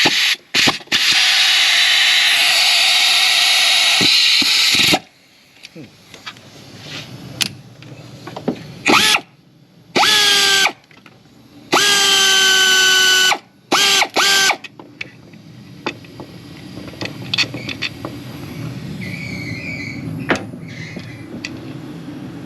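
A ratchet works a bolt on a 2007 Dodge Durango 4.7L engine, with a loud harsh grinding burst followed by stop-start mechanical whirring and clicking close by, punctuated by sharp gaps.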